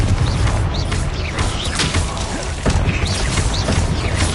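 Confringo blasting spells explode in the Hogwarts Legacy video game, a busy run of loud booms and crashing impacts layered with whooshing magical effects over a constant dense background of combat sound.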